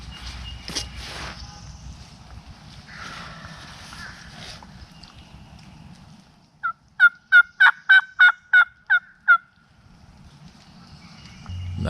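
A wild turkey gobbler in Alabama gobbling, a loud rattling burst of about eight rapid throaty notes in the middle, preceded by faint rustling and quiet ambient sound.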